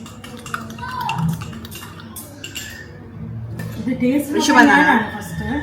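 A spoon stirs banana, sugar and milk together for avil milk, clinking repeatedly against the container in uneven bursts, while a person talks nearby.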